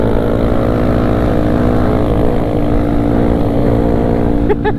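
Motorbike engine on a night ride between Bandung and Garut, a KLX 250 or WR155 supermoto trail bike, a loud steady droning hum with no break, close to the rider.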